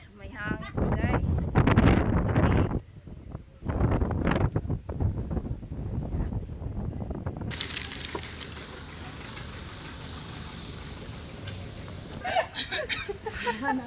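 Wind buffets the microphone in a steady rushing roar on a foggy day in Tagaytay, with a stretch of talking early on before the gusts take over.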